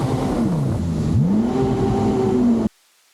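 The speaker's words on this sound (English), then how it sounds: "you're going to hear that I've sucked some weeds into my intake" A Yamaha WaveRunner jet ski engine on Lake Toho, loud and close, revving with rising and falling pitch sweeps as weeds clog the intake, then cutting off abruptly into silence.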